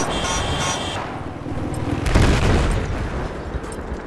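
A tank's main cannon fires in a Battlefield 4 battle, a single loud boom with a deep low rumble about two seconds in, over a dense backdrop of game noise and distant gunfire.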